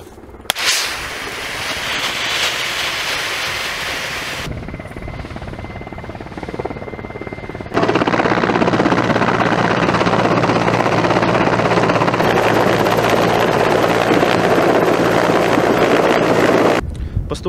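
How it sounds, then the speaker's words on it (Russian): A Mi-8 AMTSh Terminator military helicopter fitted with an evacuation cradle and medical module roars loudly and steadily for the whole stretch, its rotor and turbine noise dropping briefly before surging back even louder, with no talk over it. "с использованием вертолета Ми-8 АМТШ «Терминатор», оборудованного специальной эвакуационной люлькой и медицинским"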